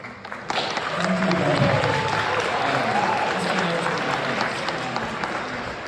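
An audience at a county prosecutor candidates forum bursts into applause after a sharp start, steady clapping from a crowd that holds for several seconds before easing off slightly.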